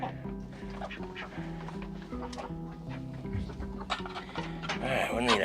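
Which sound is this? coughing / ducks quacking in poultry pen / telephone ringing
ducks quacking in poultry pen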